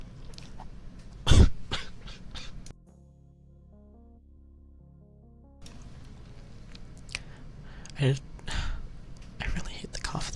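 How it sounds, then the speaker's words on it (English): A small, dry cough sounds close to the microphone, a sharp burst near the start and a second softer one later, amid quiet whispery breaths and mouth sounds in an intimate livestream setting. "I really hate the cough that I have, because it's just like a really small cough"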